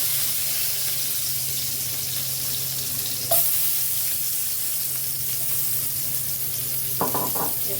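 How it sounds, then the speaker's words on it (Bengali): Chopped onion and garlic sizzle steadily in hot oil in a pan, with a close, continuous frying hiss and a few brief clinks and stirring noises, no talking. "এখন এদের তেলে দেবো। তেল গরম হয়ে গেছে"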